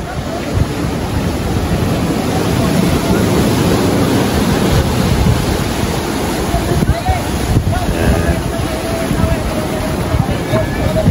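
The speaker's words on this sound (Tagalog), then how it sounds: "tingnan natin yung big waves na name nila" Big ocean waves break and roll at the Cloud 9 surf spot in Siargao, a steady loud wash of surf mixed with wind buffeting the microphone throughout.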